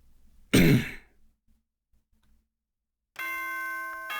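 Danganronpa game broadcast chime sounding once as a bright, sustained multi-tone ring near the end, following an earlier short throat-clearing-like burst and a quiet gap.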